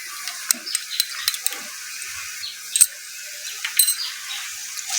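Ginger and garlic paste frying in a pan for a soybean curry, a light, thin sizzle with scattered soft stirring scrapes and clicks, fairly quiet and steady, no voices.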